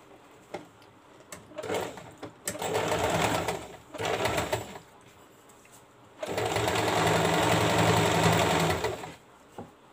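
A sewing machine stitches along the folded edge of a sleeve strip in short bursts, followed by a longer steady run of close, rattling stitching.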